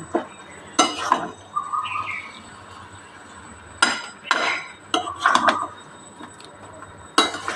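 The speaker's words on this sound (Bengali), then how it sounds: "এই যে ইঁচড়টা দিয়ে দিলাম। এটা আমি সুন্দর করে এবারে কষিয়ে নেব।" Boiled young jackfruit going into a pan for a prawn dish and being stir-fried, heard as sharp spatula scrapes and clinks against metal at irregular intervals over a low background hiss, close by.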